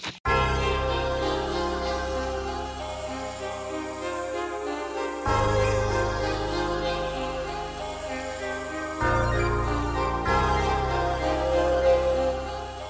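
Angle grinder cutting through an aluminum fog light cover, with a steady, loud, continuous whine and grinding roar that shifts slightly as the cut progresses, captured close on a phone.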